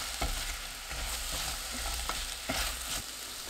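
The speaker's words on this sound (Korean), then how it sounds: "물 한 큰술 넣고 30초 볶아주세요." Zucchini with minced garlic and a spoonful of water stir-frying in a pan, a steady close sizzle with spatula scrapes and stirring knocks recurring every second or so.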